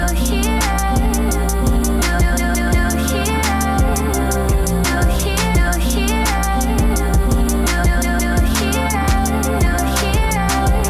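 A dense, looping beat of chopped sample stabs over steady punchy drums and bass, played continuously and loud with no voices.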